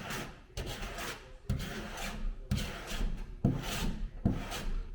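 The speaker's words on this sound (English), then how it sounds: "that is a total pain in the butt to work out with a piece of 80 grit" Hand sanding partly cured body filler on a car body panel with 80 grit sandpaper, heard as six loud, rough back-and-forth rasping strokes in a steady rhythm with no one talking.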